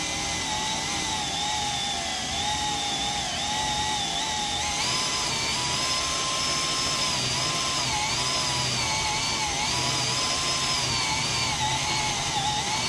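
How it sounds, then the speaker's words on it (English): A power drill whines steadily as the bit bores through material while mounting a side mirror on a Kubota BX tractor cab, its pitch wavering slightly under load, close and loud with no talking. "I can feel it's coming to the end. I can feel the drill bit."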